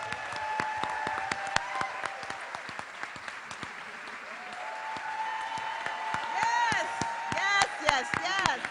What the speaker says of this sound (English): And please give a round of applause for our director, Miss Liesl Tommy.